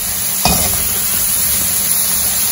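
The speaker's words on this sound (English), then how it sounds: "So firstly, I'm frying some chips. I like it very dry." Steady sizzling hiss of chips frying in hot oil in a pan, constant throughout, with a brief stir or clatter near the start.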